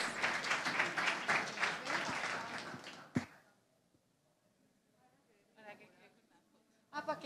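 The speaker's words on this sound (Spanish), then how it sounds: "Un fuerte aplauso, por favor." Audience applause at a health-sector conference on women's empowerment, loud and sustained for about three seconds before stopping abruptly, followed by a quiet room, scattered faint voices and a brief burst of sound near the end.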